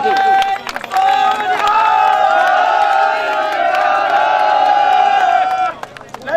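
An outdoor kabaddi tournament crowd claps and cheers during a prize announcement, a loud sustained wash of applause and shouting lasting several seconds, with a voice carrying over it through a loudspeaker.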